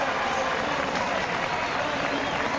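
Dense applause and cheering from a large cosmopolitan crowd lining the Champs-Élysées at a Tour de France finish, continuous and loud throughout.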